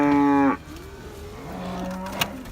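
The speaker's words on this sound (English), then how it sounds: "That's a good looking young cow here." A young cow at a farm gate lets out a loud, close moo that cuts off after half a second. Quieter lowing follows, with a brief sharp knock near the end.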